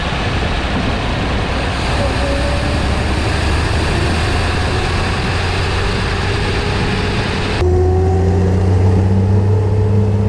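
A 1933 Lagonda M45 prototype car's engine runs steadily while driving, a loud continuous low rumble with road noise that deepens toward the end, with no one talking over it.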